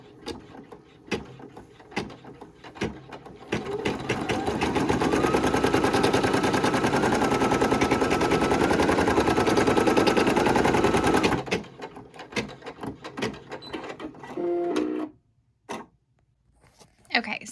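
A Brother PE800 embroidery machine stitches a fabric applique fish body in a dense, rapid mechanical chatter lasting several seconds, bracketed by clicks and handling noises, with a voice briefly talking near the end.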